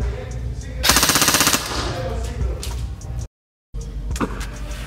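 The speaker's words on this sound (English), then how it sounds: "Let's now test some automatic fire." An ICS Peleador airsoft gun fires a fast automatic burst of rapid, evenly spaced clicking shots lasting under a second, loud and close, followed by quieter handling noises and a short gap of silence.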